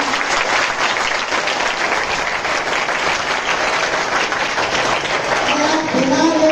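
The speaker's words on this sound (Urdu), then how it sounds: "اپنے مہمانوں کے لیے زوردار تالیاں ہو جائے" Schoolchildren in a school auditorium applaud the guests at an opening ceremony with loud, continuous massed clapping, and a voice begins speaking over the tail end.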